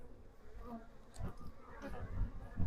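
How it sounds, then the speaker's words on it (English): Agitated honey bees buzz densely around an opened hive, a steady close swarm drone that swells and fades, with occasional faint handling noises underneath. "So we're gonna have to smoke these bees a little bit."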